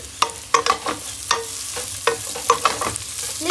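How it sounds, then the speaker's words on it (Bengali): Bitter gourd fried with salt sizzles quietly in a pan while a utensil stirs it with sharp, irregular scraping knocks, close by and with no talk. "উচ্ছে ভাজা করছি নুন দিয়ে।"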